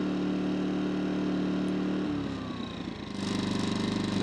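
A Yamaha 2kVA RV generator runs with a steady engine drone, then its revs shift and settle into a rougher, rising note partway through, close and fairly loud.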